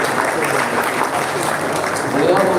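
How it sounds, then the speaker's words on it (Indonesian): Audience applause at a dulmuluk traditional theatre performance and workshop at Gedung Kesenian Palembang, a dense, steady clapping from a crowd, fairly loud and continuous throughout with voices mixed in. "Boleh tepuk tangan buat saya"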